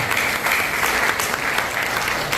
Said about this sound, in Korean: 우리 이충선 박사님께 다시 한번 뜨거운 박수를 드리겠습니다.